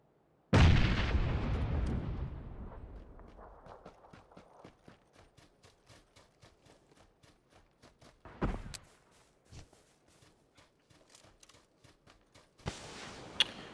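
Gunfire in the game PUBG: a loud opening shot with a long decaying echo, followed by a rapid run of faint clicks and distant shots, and then another burst. No speech is heard.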